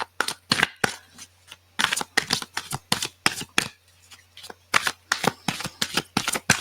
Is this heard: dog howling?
no